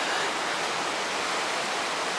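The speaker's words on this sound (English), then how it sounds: "that's the amount of water that's going through that, what appears to be like a 3-foot gap through the Strid" Rushing river water forced through the narrow rock gap of the Strid, a constant dense roar of turbulent flow, close and loud, with no voices.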